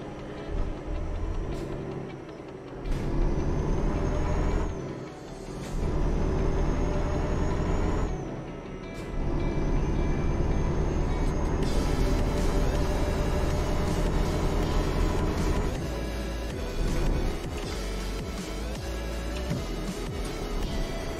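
Heavy truck rumbling and pulling away in Euro Truck Simulator 2, a steady loud low engine drone with brief air-brake hisses and gear-change dips in the first seconds, continuing without talk.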